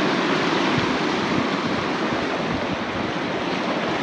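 Wind and ocean waves at a beach: a dense, steady roar of surf and gusting wind filling the whole span, loud and continuous with no voices.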